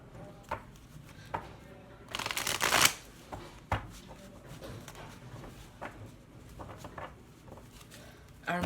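Tarot cards being shuffled close by, with a crisp riffling burst in the middle and scattered soft card taps and handling, a quiet voice speaking around them.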